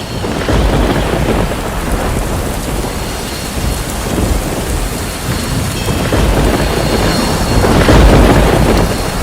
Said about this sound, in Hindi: अचानक जोर से बारिश आ जाती है।